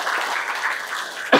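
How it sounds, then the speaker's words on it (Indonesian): Applause from the audience at a business seminar, a brief, dense burst of clapping from many hands, fairly loud and close, ending abruptly with a louder hit. "Beri aplaus dulu buat Bapak Ibu."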